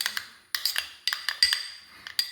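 A spoon scrapes and clinks against a bowl while stirring a coffee powder face pack, giving irregular bursts of sharp metallic taps and rubbing, close and clear, with quiet gaps between strokes.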